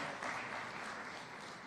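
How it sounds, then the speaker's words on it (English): An audience at a parliamentary association event claps for the Speaker, a faint, steady patter of many hands with no voices over it. "Please clap for our Speaker."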